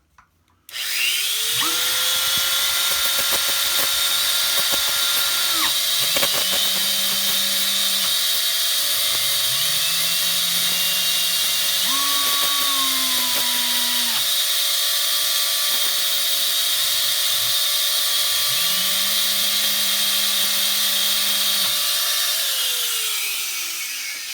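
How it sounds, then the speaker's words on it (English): A small diamond-tipped Dremel rotary tool grinds on a vintage Japanese PlayBoy lighter, a steady high-pitched whine running almost continuously, with the pitch dipping and rising as the bit bites into the metal in several short passes. "I use this little Dremel, diamond tip Dremel thing to"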